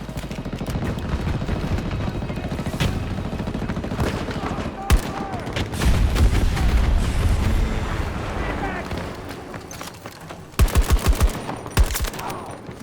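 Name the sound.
M5A3 rifle gunfire in a video game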